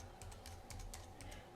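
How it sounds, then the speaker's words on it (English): Quick, light keystrokes on a computer keyboard as a website address is typed, a close, quiet run of clicks in an even rhythm. "And then I'm going to type my website."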